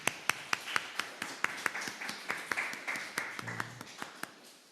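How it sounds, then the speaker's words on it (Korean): A church congregation at a Sunday service claps in welcome, brisk rhythmic hand claps from a fairly small group with a faint voice briefly underneath. "우리 옆에 있는 분들을 박수로 환영했으면 좋겠습니다."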